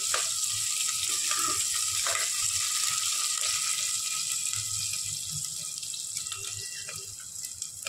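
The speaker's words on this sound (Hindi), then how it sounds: "कांदा आपण फ्राय करून घेऊ." Onion frying in a pan of hot oil for sambar rice, a steady loud hiss and sizzle that runs without a break through the whole stretch, with faint clinks from the pan now and then.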